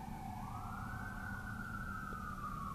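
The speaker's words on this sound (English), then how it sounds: "Sirens." A siren wails steadily in the distance in the suburbs, rising and holding its pitch over a low rumble of traffic.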